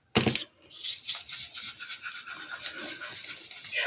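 A brush scrubs olive-green watercolor paint across paper in a craft project, producing a close, dry, rasping swish that continues steadily after a sharp opening scrape.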